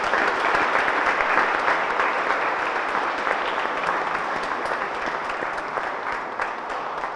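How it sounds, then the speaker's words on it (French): A church congregation at a Saturday Mass at St Patrick's applauds scouts, a loud, sustained clapping that holds steady for several seconds and then slowly tapers off. "je voudrais que vous les applaudissiez bien bien fort"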